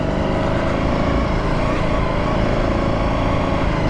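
A 2025 Ducati Panigale V4S, a 213-horsepower sport bike in sport mode, roars steadily and loud while being ridden on the road, its engine note blended with dense wind rush throughout, with no talk over it.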